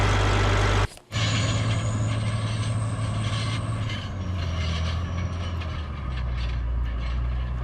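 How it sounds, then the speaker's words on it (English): A Caterpillar rubber-track tractor with a roughly 500-horsepower diesel engine rips hardened soil. It gives a loud, continuous mechanical roar with a deep engine drone, broken by one brief dropout near the start, close with no voices. "This is a rubber track layer Caterpillar. Like I said, it's about 500 horsepower. Runs by diesel."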